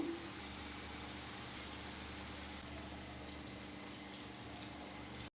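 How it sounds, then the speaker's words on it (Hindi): Rice flour mathri puris frying in lightly warm oil, a faint, steady fine sizzle and gentle bubbling hiss that continues evenly with a few tiny pops. "तो चलिए हम हल्के गर्म तेल में सभी पूरी को डाल देते हैं।"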